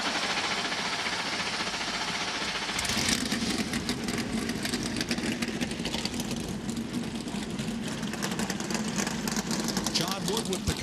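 NASCAR Cup Series stock car engines fire up together at the All-Star race, a dense roar that jumps in loudness around three seconds in and then rumbles on steadily, with crowd and voices mixed underneath.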